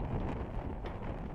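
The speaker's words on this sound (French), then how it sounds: "il y a des rafales bien sûr, 11 nœuds dans le port" Gusts of wind buffet a sailboat in a harbour, a steady rough rushing that swells and eases over a brief moment, close and fairly loud with no voices.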